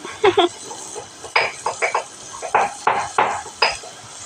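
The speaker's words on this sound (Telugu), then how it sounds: "ఉల్లిపాయ జీలకర్ర నూరుతాకు కూడా సౌండ్ వచ్చేస్తుంది" Onion and cumin seeds pounded in a mortar: a series of sharp, close knocking thuds in an irregular rhythm, about a dozen strikes, loud and dry with no talk over them.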